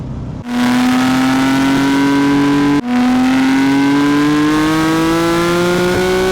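Porsche 992 GT3 Touring engine heard close and loud on its own, its pitch climbing steadily, then a brief cut at a gear change about midway before the tone climbs again to the end.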